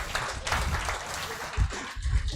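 Audience applause in a lecture hall after a speaker asks the crowd to clap for Prudential, a dense steady patter of many hands lasting throughout with some louder swells near the end.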